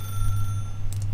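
A telephone rings in the video game The Stanley Parable, a loud, steady electronic bell tone with a brief brighter trill near the end, heard alone.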